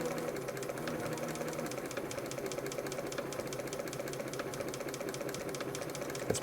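A Bernina 930 Record electronic sewing machine runs continuously, a faint, even mechanical hum with rapid regular ticking as the needle bar disengages and re-engages.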